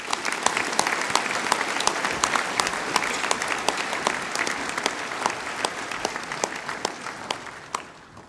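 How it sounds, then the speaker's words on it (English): An audience applauds graduating students at a Year 12-13 school prizegiving: a dense, steady round of clapping with crisp individual claps standing out, holding for several seconds before tapering off at the end. "Please applaud these students."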